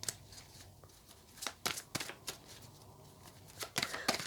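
Sacred Power oracle card deck being shuffled by hand, a string of quick papery riffles and snaps in short bursts, close and fairly quiet, with no talking.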